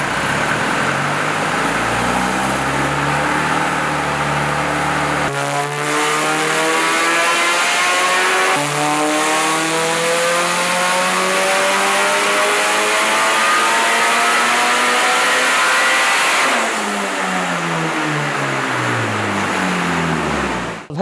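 A Toyota Sprinter AE86 fitted with an SR20DET engine and GT3582 turbo revs loudly and continuously, its pitch sweeping up and down through repeated climbs, close and alone with no talk.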